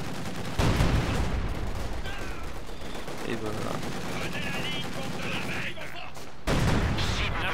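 Small arms gunfire in the WWII strategy game Company of Heroes 2, dense rattling rifle and machine-gun bursts filling the scene, with voices talking over the shooting.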